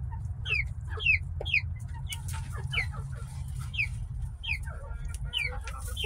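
Backyard hens cluck and chatter near and far, repeated short rising calls scattered over a steady low background hum, no talking.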